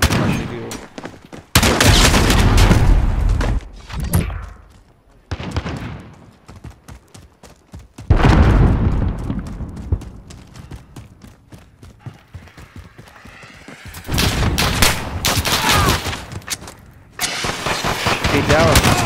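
Bursts of gunfire from the video game Rainbow Six Siege, loud and close, coming in several dense stretches separated by brief pauses.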